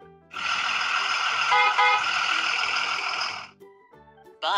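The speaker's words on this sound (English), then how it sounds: "Bus." Bus driving along with a steady engine drone, and a sustained horn blast layered over it, ending abruptly and followed by short chime-like tones.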